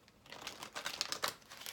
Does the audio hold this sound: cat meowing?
no